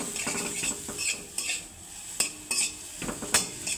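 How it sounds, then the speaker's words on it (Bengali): Semolina mixture with cumin and chilli powder stirred in a pan, quick repeated scraping and clinking strokes of a spoon against metal, close and moderately loud, with a soft sizzle behind and no speech. "দিয়ে দেবো প্যাকেটের যে জিরে গুঁড়ো, প্যাকেটের লঙ্কা গুঁড়ো, ভালো করে আবারও মিশিয়ে নেব।"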